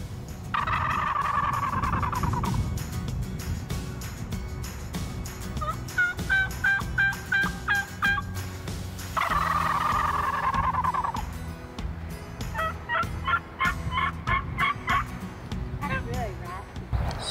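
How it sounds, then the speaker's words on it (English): A wild turkey gobbler gobbles in loud rattling bursts during a spring youth hunt in Massachusetts, two long gobbles a few seconds apart, each followed by quicker clucking calls, with no talk over them. "That is not a hen. That is a gobbler."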